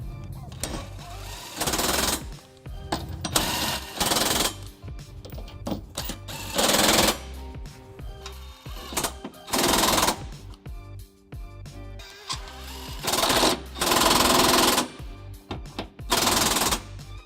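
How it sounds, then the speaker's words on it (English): A power tool with a 19mm socket snugs trailer hitch bolts on a 2008 Pontiac Vibe, sounding as repeated loud rattling bursts of a few seconds each, separated by pauses with quieter sounds. "I'm just going to snug these up with a 19mm socket before we get them ready for a final torque"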